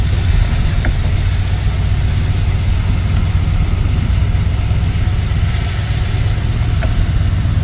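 A 1970 Oldsmobile Cutlass engine runs at a steady, slightly high idle, a constant low rumble close by with no talking over it.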